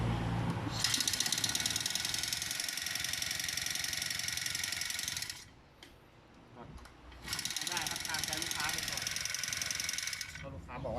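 Honda GX four-stroke grass cutter engine running hard with loud piston ring noise, a dense steady mechanical roar that drops away briefly near the middle before returning at full volume.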